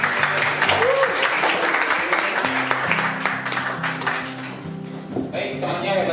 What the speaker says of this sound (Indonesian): Ya, tepuk tangan dong temannya.